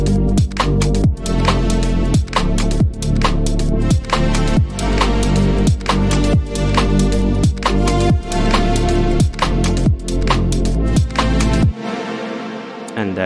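Future garage track of vacant synths, with sidechained leads pumping under steady, punchy drum hits in a loping groove, the full mix loud throughout before cutting to a short fading tail, with no voices.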